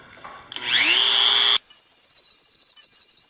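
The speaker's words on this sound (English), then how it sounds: "But what I do got is a Dremel" A Dremel rotary tool fitted with a substitute bit spins up with a rising whine, cuts loudly and steadily for about a second nearby, then stops abruptly, leaving a faint ringing tail.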